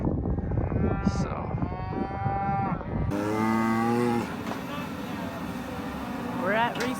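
Cattle on a ranch moo several times, with drawn-out calls from more than one animal in a valley where cows are calving, while a person talks over them.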